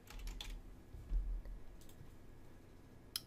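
Keys clacking on a computer keyboard in a short, quick burst of close taps, followed by a single later click, quiet and with no talk.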